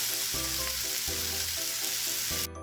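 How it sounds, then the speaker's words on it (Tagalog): Peppers and onion stir frying in avocado oil, a steady close sizzle with a few stirring scrapes and knocks in the pan, no voices. "stir fry the peppers and onion mixture in some oil"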